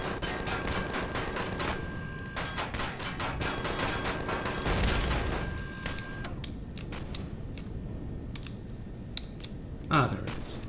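Rapid gunfire from guns in the space game Empyrion fired at an abandoned vessel, dense overlapping bursts of shots and mechanical clatter for several seconds, then sparser pops and a loud thud near the end.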